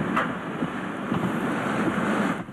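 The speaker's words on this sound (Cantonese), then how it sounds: "當地狂風暴雨" Typhoon Fanapi lashing Hualien, Taiwan with gale-force winds and heavy rain: a dense, continuous roar of wind and storm noise, steady and loud throughout with no talk.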